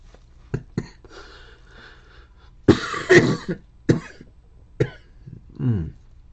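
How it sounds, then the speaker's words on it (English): A series of harsh coughs comes in irregular bursts, some short and sharp, others longer, with a throat-clearing rasp near the end. "Don't mind those coughs"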